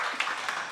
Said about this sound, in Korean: 찬양을 받으신 주님께 감사 영광의 박수 드립니다